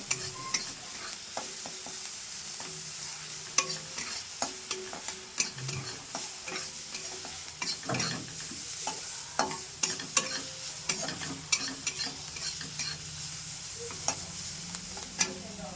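Thankuni leaves frying with salt and turmeric in a pan, giving a steady sizzle broken by frequent scraping stir strokes and clinks, close and continuous with no talking.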